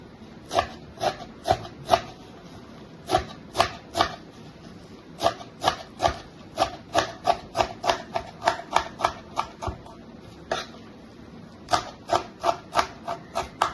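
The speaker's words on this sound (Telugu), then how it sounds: "ఇప్పుడు పుదీనా కొత్తిమీర రెండు కలిపి సన్న పీసులుగా కట్ చేసుకుందాం" Knife chops through fresh mint and coriander leaves on a board in quick, sharp taps, coming in irregular bursts of rapid strokes, close and fairly quiet, with no talk.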